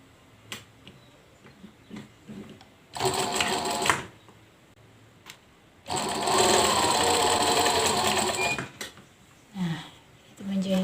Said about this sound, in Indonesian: Nah, itu menjahit.